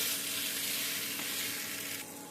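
Alur dom potatoes coated in dum masala are stirred in a hot oiled pan, giving a steady close sizzle and fry throughout that eases slightly near the end.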